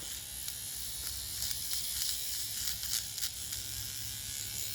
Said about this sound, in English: I just use a regular shaver and I just shave them off.